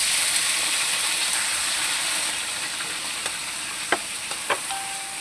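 Chicken pieces sizzle and fry in a pan with garlic and onion for chicken adobo, giving a steady, loud hiss throughout, with a few faint scrapes and clinks from stirring near the end.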